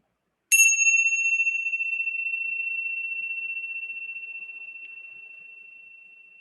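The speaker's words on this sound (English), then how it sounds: "as the sound of the bell dissolves" A single bell is struck once and rings out alone, a clear high tone that slowly fades over several seconds in a quiet room.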